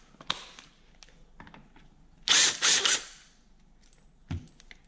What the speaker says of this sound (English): I'm going to go ahead and pull off this detent spring. It's a 24 millimeter socket.